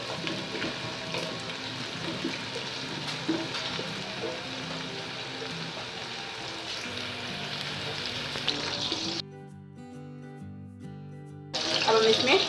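Onions frying in a pan until light golden for chicken yakhni pulao, a steady close sizzle with occasional stirring that drops out briefly near the end before returning.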